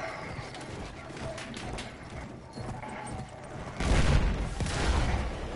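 Gunfire in the video game Battlefield 1: a dense burst of battle shots breaks out near the end, louder than the muffled combat ambience before it.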